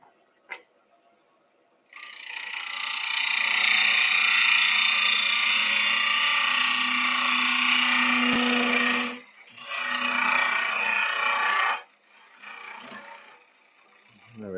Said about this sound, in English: let's just finish hollowing that to a slightly better taper with a bowl gouge